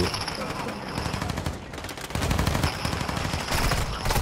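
Video game gunfire, rapid automatic bursts crackling continuously and loudly through the whole stretch, with a player's voice faintly underneath.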